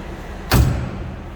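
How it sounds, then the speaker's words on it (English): A single solid thump of a 1967 Chevrolet Camaro convertible door shutting, close and clean, with a short low resonance after the impact against quiet surroundings. "Door closes nicely."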